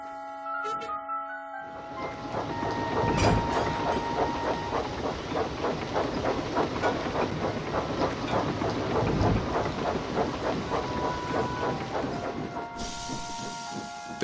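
Steam engines haul coaches along a railway in a Roblox Thomas game, a steady rolling clatter with rhythmic wheel clicks and hissing steam, loud and continuous, with tonal whistle-like drones over it and no talk.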